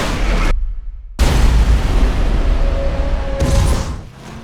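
Loud crash explosion in the racing game Burnout Revenge on PlayStation 2, a dense roaring boom that cuts out briefly after half a second, then returns as sustained thundering rumble with a fading tail.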